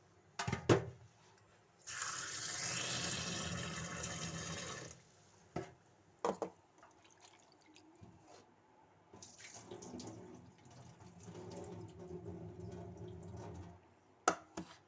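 Raw chicken is washed under running tap water, with a loud three-second gush followed by quieter splashing, sloshing and handling sounds in a sink, plus a few sharp knocks.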